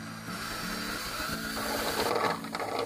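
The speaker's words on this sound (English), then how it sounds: "go ahead. You can drill." A steady whirring drill motor runs close by inside a shuttle bus being fitted with a bathroom, grinding and buzzing continuously with slight shifts in pitch as it bites in.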